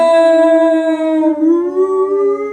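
A person's voice mimics a foghorn with one long, loud, steady hoot held close to the microphone for about two and a half seconds, its pitch dipping and then rising slightly near the end, with no talking over it.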